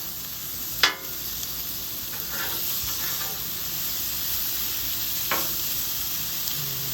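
Red drum fish on a hot Blackstone griddle, a loud steady sizzle and hiss punctuated by a sharp spatula clank as the fillet is flipped and another scrape later.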